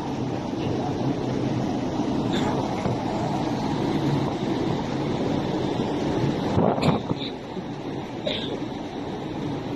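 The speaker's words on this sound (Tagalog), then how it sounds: "Sa kalagitnaan na tayo karagatan." Wind buffets the microphone aboard a passenger ship crossing open sea toward Bacolod, over a constant wash of waves and low hull rumble, with a few faint distant sounds near the end.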